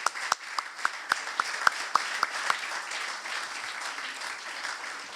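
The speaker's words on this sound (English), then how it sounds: "Please join me again in giving them a rousing round of applause for their accomplishment" An audience at a Men's Health Summit gives applause for the honorees, starting with a few sharp, separate claps and then settling into soft, sustained clapping at moderate distance.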